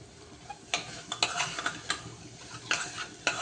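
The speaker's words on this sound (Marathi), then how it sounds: "मीठ टाकल्यानंतर हे चांगलं परतून घ्यायचं आहे परत" A spoon stirs salted rice mixture in a pan, giving a string of scraping, clinking strokes at an uneven pace over a soft background hiss, close and fairly quiet.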